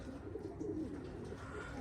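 Racing pigeons coo softly at their loft during a one-loft race in Capistrano. The low, murmuring calls sit under a steady wash of background noise, with no talking.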